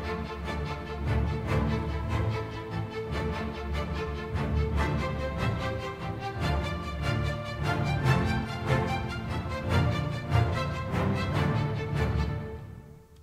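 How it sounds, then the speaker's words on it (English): Orchestral spiccato strings in a cinematic adventure action cue, rapid bouncing bowed notes pulsing in a driving, steady rhythm over a full, loud low end for about thirteen seconds, no talking. "Let's listen to all the spiccato notes together."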